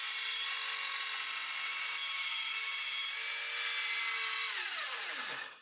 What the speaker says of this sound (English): To cut the legs, I use my handheld circular saw.